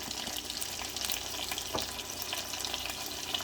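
Pav bhaji masala, chilli powder and turmeric roast in butter in a pan, giving a constant close frying hiss with a few light scraping clicks, no one speaking.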